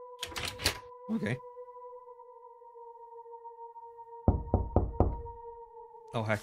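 A knock in the video game Flee: a quick run of four or five hard knocks on a door rings out over a steady low humming drone, and a voice speaks briefly before and after.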